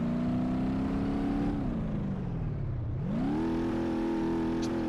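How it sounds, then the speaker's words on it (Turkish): Opel car engine in the BeamNG.drive driving game accelerating and revving: a steady mid-pitched drone that falls in pitch around the middle, then rises again as the car speeds up. It is loud and continuous and no voices can be heard. "Arabanın hızlanması biraz sorunlu ama."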